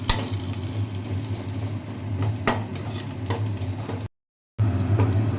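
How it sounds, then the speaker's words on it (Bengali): Garlic frying in a pan for a coriander chicken dish gives a steady close sizzle with scrapes and clinks of a spoon stirring, running continuously apart from a short gap near the end. "আগে এটা রসুনটা ভাজা ভাজা হয়ে যায়।"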